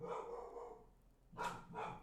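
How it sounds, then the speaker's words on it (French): Dogs barking indoors, two sharp bark bursts near the end following a quieter stretch of muffled household sound. "Attendez, les chiens, qu'est-ce qu'ils ont?"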